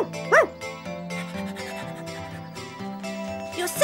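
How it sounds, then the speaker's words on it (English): A cartoon dog gives a short, sharp yip-like bark near the start, set against a steady bed of cheerful background music that continues throughout. "You're such a bouncy dog, Puck."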